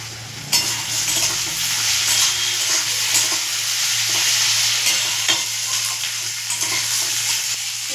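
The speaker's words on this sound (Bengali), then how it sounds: "পেঁয়াজ আর আলু ভাজার সঙ্গে সঙ্গে আমি রসুনটাকেও ভেজে নেবো" Sliced onion, potato and garlic sizzle in hot oil in a pan while being stirred, a loud close crackling hiss with scraping stir strokes throughout, no talking.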